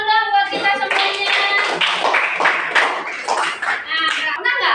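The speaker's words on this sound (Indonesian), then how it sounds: "semuanya tepuk tangan dulu dong buat kita semuanya" Group of participants clapping together during a school counseling facilitator session, a steady burst of applause mixed with voices and chatter over its short length.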